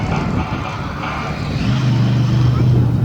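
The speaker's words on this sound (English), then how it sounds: "Ford-powered Overkill Evolution. Making a nice run here in Lima, Ohio." A Ford-powered Overkill Evolution monster truck roars through a freestyle run on a gravel track in Lima, Ohio, its engine a loud, steady rumble that swells near the end, with an announcer talking over it.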